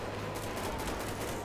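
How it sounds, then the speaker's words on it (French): Sniper rifle fire in GTA 5 during a police shootout, heard as a dense, steady crackle of shots that fills the whole moment at moderate loudness with no talking. "Là, c'est pas de la petite arme, là. Là, c'est du sniper."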